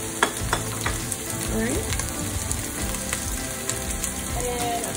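Onions sizzling in hot oil with garlic in a pan, a steady, loud frying hiss throughout with occasional stirring clinks, while a person briefly speaks.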